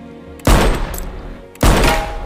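Two loud gunshots fired at a target, each a sharp close blast with a lingering echoing tail, spaced about a second apart.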